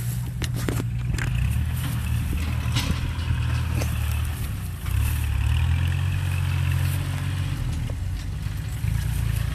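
A Kobelco excavator's diesel engine working in a rice field, a steady low rumble with a shift in pitch partway through as the engine picks up, heard fairly close and alone.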